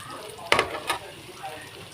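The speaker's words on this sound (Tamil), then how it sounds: "எண்ணெய் ஊற்றி கருவேப்பிலை போட்டு வெங்காயம் போட்டு 2 பச்சை மிளகா போட்டு நல்லா வதக்கலாம்" Onions, curry leaves and two green chillies sautéing in hot oil for a cauliflower curry, a low steady sizzle with two short bursts of stirring clatter near the middle.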